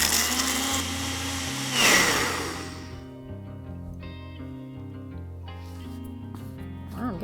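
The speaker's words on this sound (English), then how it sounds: "put the lid on, and let's blend this" Blender whirring loudly as it blends a Snickers caramel chocolate frappuccino with coffee, ice and whipped cream, a dense roar for about two seconds that cuts off and then winds down into a fading motor hum.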